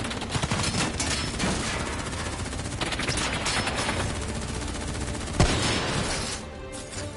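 Sustained automatic gunfire rattles through a Black Ops 3 story mission, dense overlapping bursts filling the scene with a sharper crack just past the midpoint before the volley thins out.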